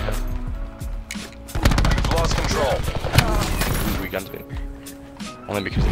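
Hip-fired automatic gunfire in Black Ops 4 bursts loud and close as rapid rattling volleys, while players talk over the shooting.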